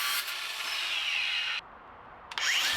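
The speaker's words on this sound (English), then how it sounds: "Here I am using the 6-inch cutting disc to cut 1/4 inch angle iron." A DEWALT FLEXVOLT 60V MAX grinder with a 6-inch cutting disc cuts through 1/4-inch angle iron, giving a loud, bright, hissing shriek that stops abruptly and restarts after a short pause.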